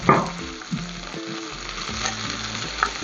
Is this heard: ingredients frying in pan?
yes